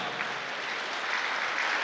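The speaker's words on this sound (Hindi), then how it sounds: "दोनों हाथ उठा के ताली बजाओ और प्रभु का धन्यवाद करो" A church congregation claps hands together in praise, a dense, steady patter of applause from many people heard at moderate distance throughout, without talk.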